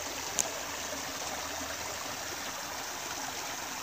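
A creek flows steadily in an outdoor Texas setting, giving a soft continuous wash of water with gentle trickling, faint and unbroken throughout.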